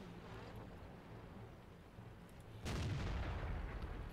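A tank cannon fires in World of Tanks, playing an AMX 50 100: a single heavy boom lands suddenly partway through and rolls on as a loud, sustained rumble over a steady low engine drone.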